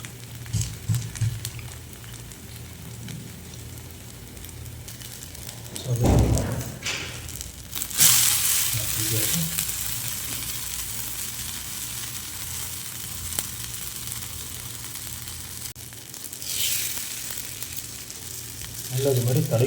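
Bottle gourd dosa batter frying on a hot pan, with a steady close sizzle and crackle throughout and some brief louder scraping and spattering in the middle.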